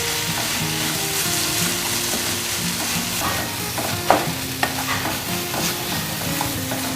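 Spiced chole mixture with turmeric and red chili powder being stirred in a pan, giving a steady close sizzle with scraping stirs and a few distinct spoon taps near the end.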